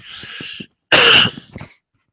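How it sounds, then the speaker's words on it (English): A raspy throat-clearing followed by a single sharp, loud cough and a softer trailing breath, up close. "So I'm going to cough again, excuse me."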